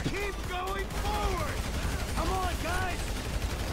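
Bursts of gunfire in the video game GTA 5 rattle on steadily with a dense, continuous clatter, while voices and tonal game sounds run over it.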